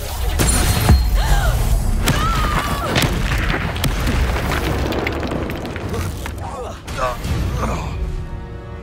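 Confringo blasting spells explode in a Harry Potter video game. Loud booms and thuds burst out in quick succession, with voices speaking between and over the blasts.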